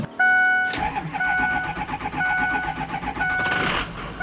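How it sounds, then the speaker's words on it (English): An old Ford Bronco's engine cranks with a whirring starter for about half a second, then catches and settles into a steady, pulsing idle, with a brief rev near the end. "Let's get this booger cranking over. Okay, let's see if she fires up."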